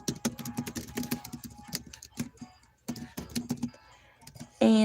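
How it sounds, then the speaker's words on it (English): Computer keyboard keys tapped in quick uneven runs with brief pauses, close and fairly quiet, with a soft voice murmuring at times and a louder thump at the very end. "I remember what I was supposed to be typing in here."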